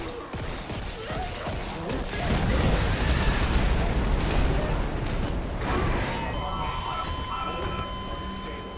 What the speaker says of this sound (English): Oh, that was a nuclear explosion,